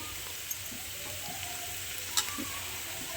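Chopped onion and garlic fry in a pan with a faint, steady low sizzle and a couple of soft taps, with no talking.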